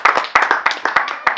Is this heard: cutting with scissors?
no